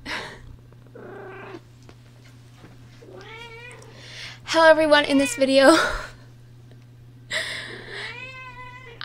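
A cat meows and purrs close by in soft, intimate bursts, with several meows, some sharp and strained, between stretches of quiet purring, while a person speaks briefly at the start.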